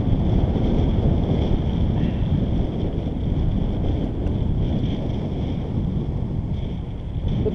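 Steady, loud wind roar buffets the microphone while riding a motorcycle in cold weather around 29 to 32 degrees, a continuous broadband rush with no voices.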